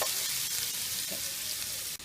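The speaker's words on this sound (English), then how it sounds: "I've got here 1½ onions, chopped up, and we fry this until they're a little bit," Chopped onions fry in a pan for a Rogan Josh, a steady close broadband sizzle with faint stirring scrapes, continuous and loud until a brief dip near the end.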